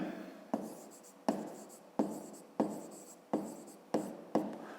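Pen or chalk writing by hand during a Ukrainian 5th-grade maths lesson, seven distinct strokes or word bursts each starting with a sharp attack and trailing off, close and clear with no talk.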